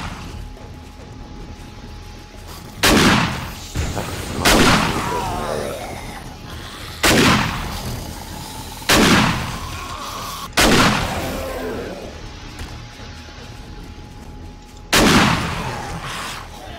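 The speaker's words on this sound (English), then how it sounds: "That a double headshot, I think it was." Gunfire in the zombie survival game 7 Days to Die during a horde night, six sharp loud shots spaced a few seconds apart over a steady background hum.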